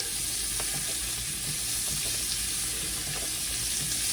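Scallops sizzling loudly in a hot pan with butter, a dense continuous fry with faint scraping ticks as they are flipped.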